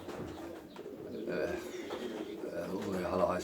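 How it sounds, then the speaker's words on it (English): Pigeons coo inside a loft of European long-distance racing pigeons, soft low throaty cooing under someone speaking steadily close by. "I also have a stock loft of European top distance pigeons"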